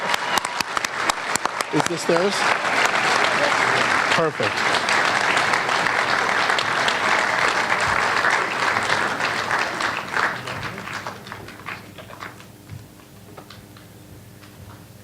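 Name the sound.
applause for award winner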